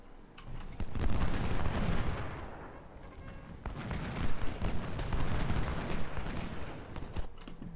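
Cannon fire in the Civil War game Ultimate General, Fredericksburg battle: repeated booming artillery blasts and crackling volleys roll in waves, heavy and close, with sharp reports cutting through around the middle and near the end.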